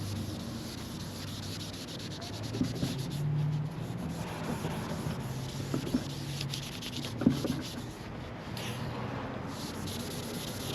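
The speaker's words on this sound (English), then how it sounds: "A normal scrub with a red Scotch-Brite here." Steady rubbing and scrubbing with a red Scotch-Brite pad on a 2019 Subaru Crosstrek, continuous close friction with a few brief knocks, no talking.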